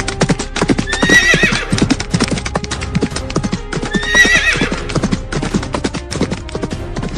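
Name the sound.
horses galloping, sound effect in a horror story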